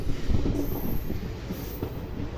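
Naini Jan Shatabdi Express pulling out of Rampur Junction after a one-minute halt, a steady loud rumble of rolling coaches with a faint high wheel squeal running over it, and no voices.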